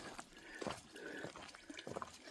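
Water trickling and splashing at a trail water source along the Long Trail, a soft, steady flow with a few brighter drips and gurgles, fairly close but low in level.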